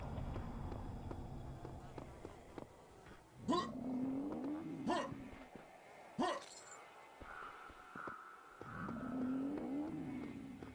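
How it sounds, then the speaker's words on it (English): A motorcycle-like engine in the VR shooter Serious Sam VR revs in a low, wavering drone, faint overall, broken by several sharp cracking impacts and other game noises. "Sounds like a motorcycle engine."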